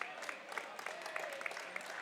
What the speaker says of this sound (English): The Hayes High crowd claps off.